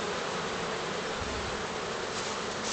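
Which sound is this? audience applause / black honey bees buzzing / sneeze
black honey bees buzzing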